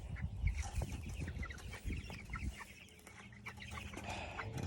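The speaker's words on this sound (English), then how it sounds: "it's all roosters in here" Roosters in a meat bird pen cluck and murmur, several soft overlapping clucks and short calls at a fairly quiet level over low shuffling noise, with no talk.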